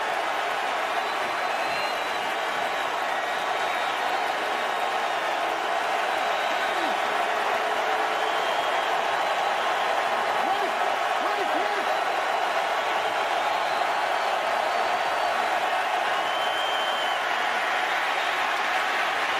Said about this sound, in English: Crowd turns it up a notch.